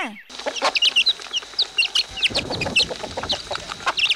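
Chickens on a small farm flock of twenty or thirty birds cluck and squawk in quick, irregular bursts, several hens calling close by and overlapping, with no voices.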